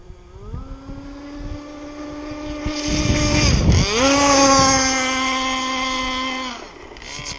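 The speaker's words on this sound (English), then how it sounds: "I just wanna get this engine running a little bit." A ZippKits Super Sport model speedboat runs on open water. Its small engine whines, rises in pitch as the throttle opens, surges loudly past with splashing water and wind, then eases back and revs again.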